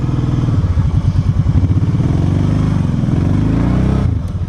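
A Kawasaki Brute Force 750 ATV revs hard in Idaho clay with its tires spinning, a loud, close, rapidly pulsing engine drone held steady for several seconds before it eases off at the end.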